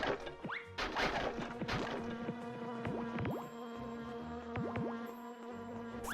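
Bees buzzing in the video game Jersey Devil, several sweeping insect drones passing close by over a steady tonal game background, with a few sharp hits early on.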